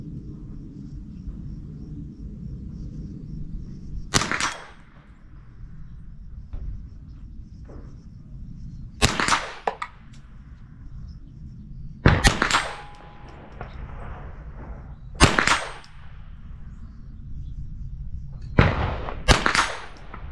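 Ruger 10/22 takedown rifle with a Summit Precision barrel fired offhand at about 55 yards outdoors, six sharp cracks spaced a few seconds apart over a low steady rumble of wind and background noise.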